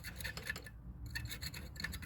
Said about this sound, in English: So let's try to grind it down and get a clean slide